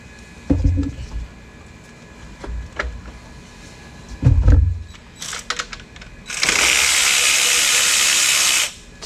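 A 10mm nut comes off the back of the alternator on a 2007 Mustang, with a few clanks and tool knocks followed by a loud, sustained whirring burst from a power tool, all close up.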